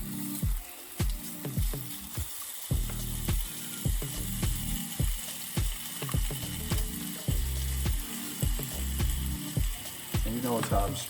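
Beef stew ingredients are stirred and spread around a sizzling pan, a repeated rhythm of scraping, clacking spatula strokes over a soft frying hiss, close and fairly quiet, no speech.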